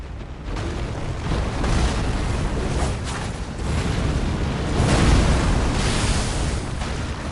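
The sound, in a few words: explosion in Elden Ring video game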